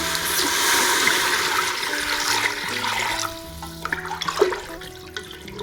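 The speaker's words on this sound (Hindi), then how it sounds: "और इसमें पानी डालेंगे।" Water gushes loudly into a pot of browned chicken for yakhni, a strong close pour that fades after a few seconds into small drips and light clinks.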